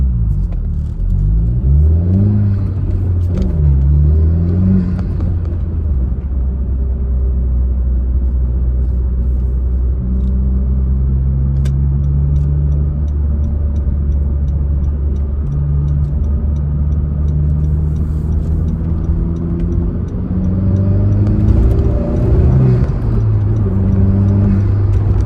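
Honda Civic Type R FK2 engine idling and revving from inside the cabin, a steady low rumble with rising and falling engine tones and faint dump valve chatter, continuous and fairly loud.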